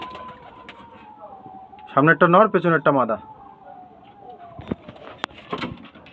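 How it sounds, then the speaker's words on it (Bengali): Pigeons kept for sale coo softly close by, their low calls mixed with someone talking at length, and there is faint traffic hum in the background. "দেখুন খুব সুন্দর পায়রা"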